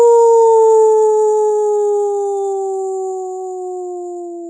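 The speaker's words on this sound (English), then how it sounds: "You want to do a howl?" A wolf lets out a single long, loud, sustained howl close by, a smooth tone that slowly falls in pitch and fades over several seconds.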